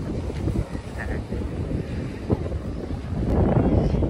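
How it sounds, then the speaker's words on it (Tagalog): Strong seaside wind at Rastanura Beach in Saudi Arabia buffets the microphone in a steady low rumble, swelling louder toward the end, with faint water and distant sounds beneath it. "Medyo mabasog ang hangin."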